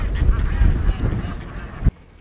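Ducks and geese calling at a roadside duck farm in Vietnam, a dense, continuous chorus of honks and quacks close by, fairly loud, ending abruptly with a sharp bump.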